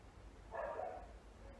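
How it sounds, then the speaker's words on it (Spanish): A poodle gives a single short, muffled bark at a moderate distance, alone against a quiet room background. "Hay un perro que es caniche"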